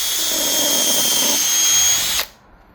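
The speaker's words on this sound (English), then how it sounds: "We're gonna pre-drill to the back of the hole and at a slight angle." A power drill pre-drilling screw holes at a slight angle for an armor plate door installation whirs at high speed for about two seconds, then stops abruptly, leaving quiet room tone.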